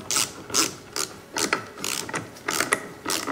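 Quick bursts of ratcheting clicks from a ratchet with a 17mm deep socket tightening a nylock nut on an electric outboard mount, repeated in short close strokes with brief pauses between them, no talking.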